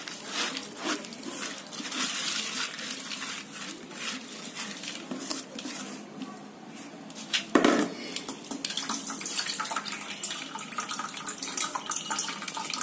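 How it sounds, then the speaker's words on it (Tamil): Water from soaked horse gram pours and splashes continuously into a strainer, with a brief clatter of a pot or dish midway; no talking. "இப்ப என்ன பண்றேன்னா, இந்த தண்ணிய வடிச்சிடலாங்க."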